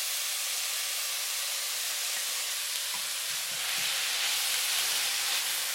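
Ground beef sizzling in a pan, a steady bright hiss of frying that swells slightly louder toward the end, with faint scraping underneath and no voices.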